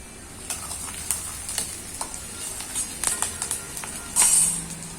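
Crushed ginger and garlic hitting a hot pan, a soft steady sizzle with light scraping taps and a brief louder hiss near the end, no talking.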